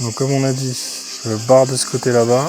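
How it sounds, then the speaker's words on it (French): Continuous high-pitched cicada buzzing drones steadily in the background outdoors while someone speaks close up before flying an FPV drone. "Vous entendez les cigales en arrière-plan?"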